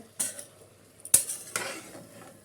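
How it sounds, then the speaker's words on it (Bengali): A spoon stirs rice and chicken in a pot over full flame for chicken polao, with a few sharp clinks and scrapes against the metal amid a faint background hiss. "চাল আর মাংসটা দিয়ে আমরা একটুখানি নেড়ে নেব"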